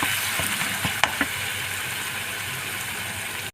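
Ripe red chillies cook down in oil for a chilli pickle thokku, giving a faint, even sizzle with a few light clicks and taps of a spoon against the pan, then an abrupt stop.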